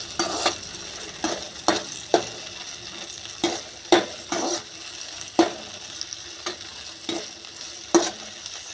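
Tomatoes fry in hot oil in a pan for garlic chutney, a steady sizzle broken by regular scraping stir strokes about once a second, close and fairly loud, with no talk.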